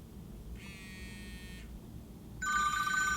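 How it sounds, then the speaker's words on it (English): Phone call ringtone played through a Mazda car audio system, a short electronic ring burst followed after a pause by a louder, brighter ring, heard inside the car over low cabin hum. "when the phone call comes in, the music will dim and pause, and you're gonna hear the ring go through"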